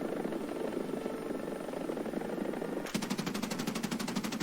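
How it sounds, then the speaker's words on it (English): Helicopter-mounted machine gun on a Swedish helicopter in War Thunder opens fire with a steady low-cyclic-rate burst of rapid rhythmic shots over the continuous loud drone of rotor and engine. "that is a low cyclic rate on that gun, and it's coming out of the wrong side of the helicopter"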